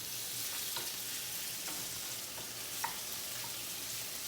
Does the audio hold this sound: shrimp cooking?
yes